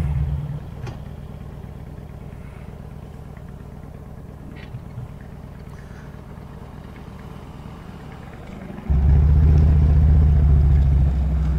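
Road traffic idling in the heat of a car show day, a low steady engine rumble that suddenly grows louder and heavier near the end as a nearby vehicle pulls close or revs.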